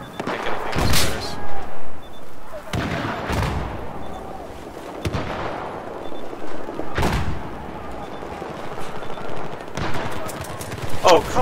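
Bursts of automatic machine-gun fire ring out in a Battlefield 4 match on an urban market map, several sharp rattling volleys spaced a few seconds apart, loud and close, with echoing impacts between them.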